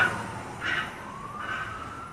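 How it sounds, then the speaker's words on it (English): Fire truck siren passing at a distance, a faint wailing tone rising and falling in two swells over steady background noise. "the sirens, you see the fire truck there?"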